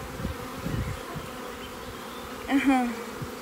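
Honeybees buzz around a hive in a soft, continuous drone close by, with one louder, rising buzz near the end as a bee passes near.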